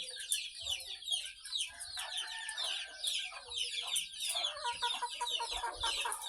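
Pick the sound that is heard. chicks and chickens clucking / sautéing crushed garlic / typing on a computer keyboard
chicks and chickens clucking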